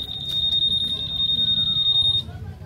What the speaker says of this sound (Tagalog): Meron pala siyang alarm.